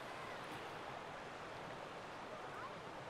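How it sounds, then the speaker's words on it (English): Steady, rushing water noise of a waterfall at an old Alaskan gold mine, faint and continuous with no breaks, heard from some distance. "Waterfall."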